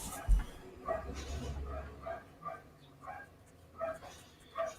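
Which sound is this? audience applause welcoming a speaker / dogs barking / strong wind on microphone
dogs barking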